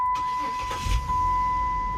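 A 2008 Chrysler 300 with a 3.5L engine, just fitted with a new starter, cranks briefly and catches, then settles into a steady close idle.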